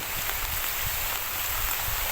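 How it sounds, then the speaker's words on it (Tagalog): Steady, dense rain pours down outdoors as a constant hiss with low drumming on surfaces, growing heavier, with no voices over it. "Pusa, umulan na. Lumakas na yung ulan."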